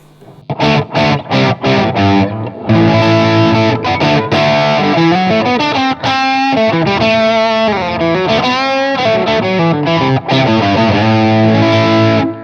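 A Gibson electric guitar with its coil tap engaged plays a distorted, effects-laden passage of ringing chords and melodic runs, loud and up close with no talking.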